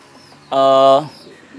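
A single short, loud tonal coo from a pigeon at a pigeon stall, close by and about half a second long, over a low background murmur.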